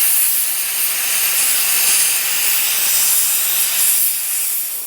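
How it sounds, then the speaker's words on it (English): Steady, loud hissing roar of a torch cutting off a worn metal cutting edge from farm equipment, continuous and close for the whole stretch, with no voices. "Just going to cut that off and weld a new piece on."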